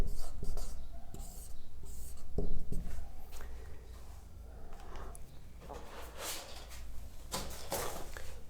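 A teacher writes a word on a board during a biology lesson, producing a series of short scratchy strokes and taps, fairly faint and close.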